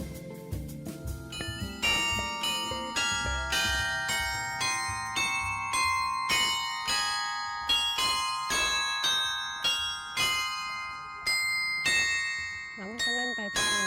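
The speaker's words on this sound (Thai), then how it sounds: "มีไฮไ ลท์เป็นระฆังบอกเวลา ที่จะบรรเลงดนตรีน่ารักน่ารักให้เราได้ฟัง" Clock tower bells at Hamanako, Japan, chime the hour with a bright melody, each note struck and left to ring, layering into a steady, lilting tune that plays on without pause.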